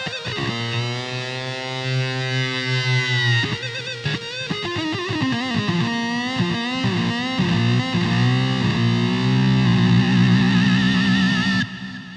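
Keyboard patch imitating a distorted lead rock guitar, playing bending lines and then double stops, heavily overdriven with effects, loud and continuous with no talking.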